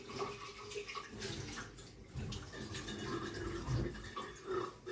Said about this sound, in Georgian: აბა აქ მოდის ყინულივით წყალი.